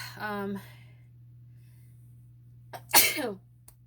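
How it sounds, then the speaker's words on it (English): A single abrupt sneeze bursts out near the end, after a person's brief speech and a quiet pause. "I feel like I need to sneeze."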